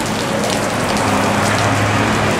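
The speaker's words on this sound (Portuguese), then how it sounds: "Mó chuva aqui, né, mano?" Heavy rain pouring outside a hospital in Juquitiba, a dense, loud and unbroken hiss of drops hitting the ground and surfaces nearby.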